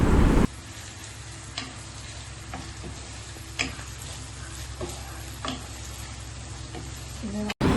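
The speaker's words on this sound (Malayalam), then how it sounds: "അതിനുശേഷം നമുക്ക് വെളുത്തുള്ളി കൂടെ ഇട്ട് കൊടുക്കാം ഈ കാര്യങ്ങളെല്ലാം ഇട്ടതിന് ശേഷം നന്നായി ഇളക്കി കൊടുക്കുക" Garlic frying in a pan for beef perattu, with a steady low sizzle and scattered light clicks and scrapes of stirring, fairly close and alone without talk.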